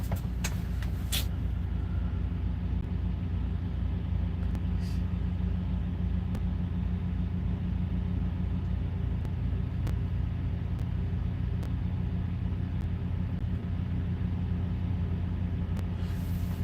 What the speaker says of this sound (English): we driving right now